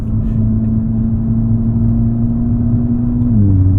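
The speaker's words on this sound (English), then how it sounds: "Well, the exhaust is loud." Tuned VW Golf R Mk7.5 hot hatch on a track, its loud exhaust droning in a steady, heavy note that holds constant and then briefly drops in pitch near the end, close and dominant.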